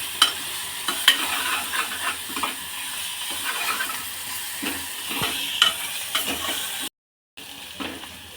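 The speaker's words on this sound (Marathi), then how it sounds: "आता हे आपल्याला व्यवस्थित असं परतून घ्यायचं याचा कच्चपणा दूर होईपर्यंत" Masala rice ingredients sauté and sizzle in a pan while a spoon stirs and scrapes through them in an irregular rhythm, close and steady, with a brief silent gap near the end.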